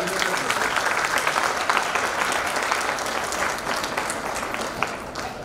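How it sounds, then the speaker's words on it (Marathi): An audience applauding the principal, vice-principal and their team at a college day function, dense continuous clapping that holds steady throughout and eases slightly toward the end. "ते सगळ्यांसाठी आपण जोरात टाळ्या वाजवून त्यांचं अभिनंदन करतो."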